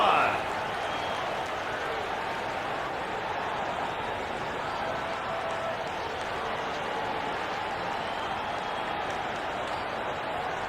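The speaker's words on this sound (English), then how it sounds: "Fans, please give a big round of applause for your youth." A steady, dense crowd roar runs through an arcade-edition basketball video game, an unbroken wash of applause and cheering that holds the same level for the whole stretch, with a short louder burst at the start.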